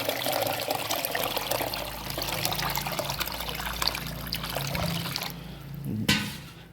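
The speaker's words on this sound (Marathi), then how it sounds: "आता ह्यामध्ये मी पाणी ओतून ह्याला भिजत घालणार आहे." Water poured into a container of washed wheat grain to soak it, a steady close trickling and splashing pour that runs for several seconds, then fades into a brief clatter near the end.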